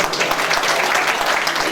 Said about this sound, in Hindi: दूसरे एक बार जरा बड़ी तालियां बजाइए